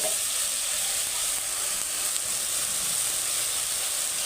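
Raw green mango pieces with masala, onion and a little ginger paste fry in hot oil, giving a steady, close broadband sizzle that holds evenly throughout with no talking.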